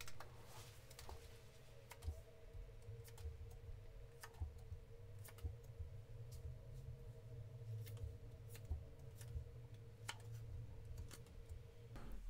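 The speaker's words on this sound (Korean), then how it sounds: "잠시 심호흡하는 동안 제가 카드 뽑아볼게요" Tarot cards are drawn and handled in a quiet room, giving faint, sparse ticks and light snaps of card stock scattered over a low steady hum, with no one speaking.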